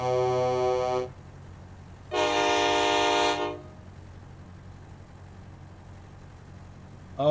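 Two loud, brassy horn blasts from a truck in American Truck Simulator, one ending at the start and a second lasting over a second, followed by quiet engine hum.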